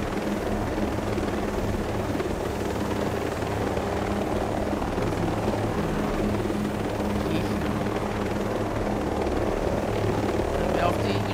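A helicopter in the tactical shooter Ghost Recon Breakpoint gives a steady, continuous rotor thrum with a droning engine that holds level throughout, close and constant, with players talking over it.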